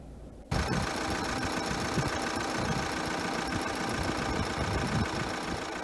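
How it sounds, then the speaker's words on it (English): A van engine cranks and fires up after a brief quiet moment, then settles into a steady, loud, close rumbling idle that continues throughout. "start up the van"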